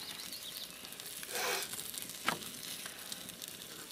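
Soft sizzling of rabbit meat frying in a pan at a campground, a low crackle with a brief louder hiss partway through and a few small pops.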